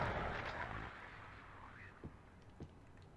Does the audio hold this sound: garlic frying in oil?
no